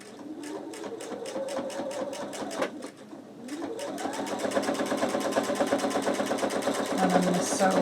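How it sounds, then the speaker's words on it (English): A sewing machine runs a seam on a skull project, its needle chattering in a quick, even rhythm close by, pausing briefly before speeding up and running steadily to the end. "I'm going to sew right off the end"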